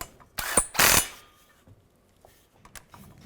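A hand ratchet snugs CV joint bolts on a Chevrolet Equinox. Two short, close bursts of metallic clicking come first, followed by fainter clicks and small tool noises.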